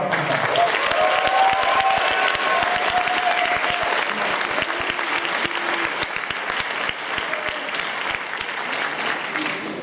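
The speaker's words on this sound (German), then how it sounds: "Tut mir den Gefallen, einmal einen Applaus von Veronika." A business seminar audience gives sustained applause for Veronika, a thick and steady roar of clapping with a few sharp individual claps, while a voice speaks briefly at the start.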